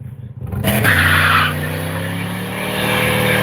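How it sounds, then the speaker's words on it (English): A Ford F150 pickup with a 3.8 engine, rusty and just warmed up, spins its tires on dry driveway pavement in a burnout, its engine droning loud and steady under a rising tire squeal. "it did burnouts in the driveway on dry fucking pavement"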